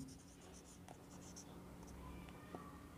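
Pen or chalk writing during a class 6 math lesson, faint scratchy strokes in a quiet room with no talk.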